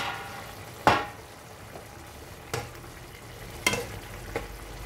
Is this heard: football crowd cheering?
no